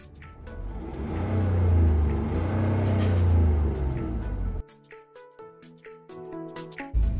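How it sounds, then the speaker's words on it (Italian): A MINI One D 1.5 on a road test gives a loud, close engine drone that builds and revs for several seconds, then cuts abruptly to a much quieter, lighter sound. "Adesso non ci rimane che andare su strada e testarla"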